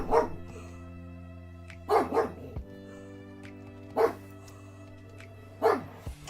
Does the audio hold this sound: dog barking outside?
yes